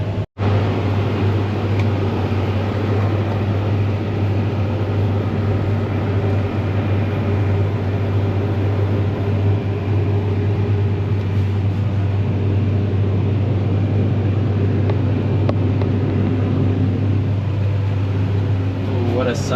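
A Fendt or John Deere tractor working a field drones with a loud, steady low engine hum that continues evenly throughout with no pauses.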